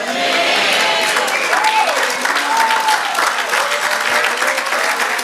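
A church congregation claps together during a Spanish-language sermon, a loud, sustained burst of applause mixed with scattered voices and cheers.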